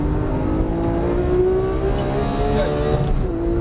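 Porsche 991 GT3 on a race track at Auto Club, its engine droning steadily loud from inside the cabin as revs climb and shift under throttle.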